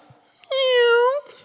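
A voice imitates a cat's meow, giving one drawn-out, nasal miaow of about seven tenths of a second, clear and close. Brief faint speech sounds come just before it.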